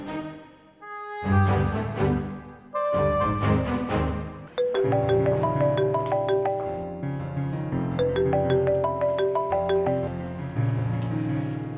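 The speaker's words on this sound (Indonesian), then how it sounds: "Aku telepon ibu dulu ya, sebentar." A phone chimes with a bright, repeating melodic ringtone while a call to a mother goes through, its tones ringing on steadily and clearly with nothing else over them.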